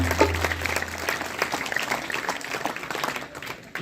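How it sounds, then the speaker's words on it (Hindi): Audience applause fills a gathering at a gurukul event honouring Swami Dayanand, a steady burst of clapping from a crowd that holds for a few seconds and thins slightly at the end. "एक बार जोरदार तालियां बजाओ उनके लिए"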